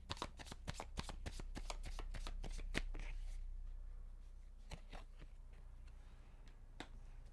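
A deck of tarot cards is shuffled close by in a rapid burst of crisp riffling snaps, then after a pause a few scattered single card flicks and taps follow in the quiet.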